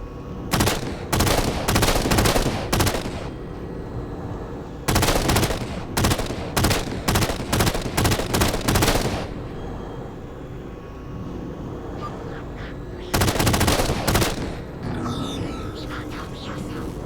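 Heavy automatic gunfire in the sci-fi shooter Halo 4, loud rattling bursts of rapid shots, each lasting a couple of seconds, separated by pauses of droning engine and ambient hum.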